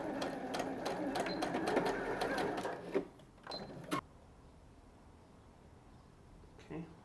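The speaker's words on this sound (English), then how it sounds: "I'm just going to sew in a much smaller stitch all the way to that turning point" Sewing machine runs a small stitch on fabric straps with interfacing, a few seconds of rapid mechanical ticking that stops abruptly, followed by a quiet room.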